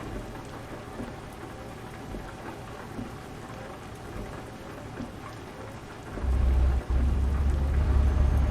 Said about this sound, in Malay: Okey, hujan.